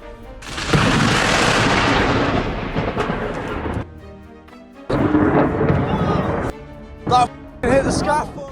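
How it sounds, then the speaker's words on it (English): Lightning strikes a construction scaffold in Cornwall, England, giving loud, rumbling thunderous booms that roll on for several seconds, break off, then return as shorter blasts and crackles. "Like a warning, lightning shook the construction area in Cornwall, England."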